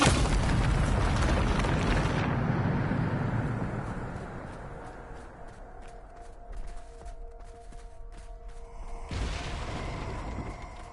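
A Bombarda spell explosion in Hogwarts Legacy bursts loudly, then its rumble decays over several seconds into quieter tones, with another sharp burst arriving near the end.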